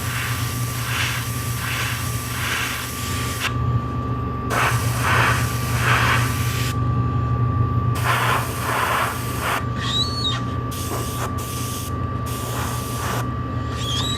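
Yellow spray paint goes onto a helmet in long airbrush-like hissing passes, loud and near, the bursts starting and stopping several times.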